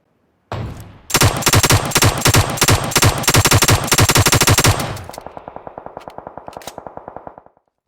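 Mark 47 rifle firing in PUBG Mobile, a loud rapid string of about twenty close shots, followed by a fainter, quicker echoing series tapering off.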